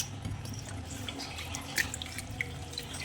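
Soaked rice for nombu kanji being washed in a kitchen, with running tap water, splashing and small drips, close and continuous, plus a few sharper sloshes and no voices.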